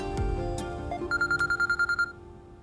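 A telephone ringtone plays in a domestic drama scene: a steady run of quick, evenly spaced electronic pulses lasting about a second, clear and close, with no voices.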